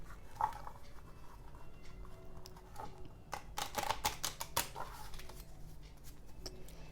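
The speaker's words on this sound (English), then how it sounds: "Now we're just going to shuffle it" A stiff deck of playing cards is shuffled by hand, with quiet handling and a brief flurry of rapid crisp riffling clicks midway, close and soft.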